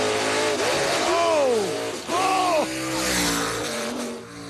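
Wheel-standing drag race car launching hard at a wheel standing competition in Indiana, a loud engine roar with rising and falling revving sweeps, a short break near two seconds, then another surge, with crowd and track noise beneath.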